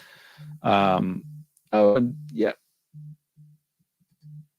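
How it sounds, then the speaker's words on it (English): A mobile phone vibrating during a live talk broadcast: short low buzzing pulses in a broken rhythm, close and fairly quiet, with two brief bursts of a man's speech over the first buzzes. "Sorry, phone is vibrating."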